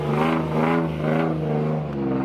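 A Nissan Turbo Z engine hums and revs while the car is driven, a loud, steady low drone that swells and eases slightly, with no voices over it.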